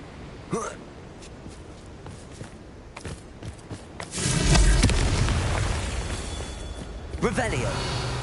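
A Confringo blasting spell in Hogwarts Legacy erupts midway as a loud, sustained explosive boom with crackling, preceded by footsteps and light game sounds, and a spoken voice is present.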